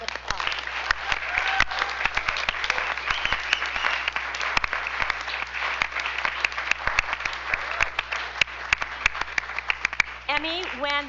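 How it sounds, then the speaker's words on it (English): Sustained applause from the audience at a school district board business meeting honoring Emmy, dense and steady for about eleven seconds, with a voice rising briefly near the end. "So I would like everyone to join me in giving Emmy a round of applause."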